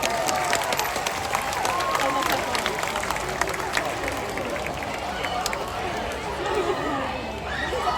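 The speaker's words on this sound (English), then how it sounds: "Give yourselves a round of applause" Spectators at a zoo seal show in Sydney clap and cheer outdoors, a lively mix of applause and crowd chatter with scattered sharp claps, while a voice talks over it throughout.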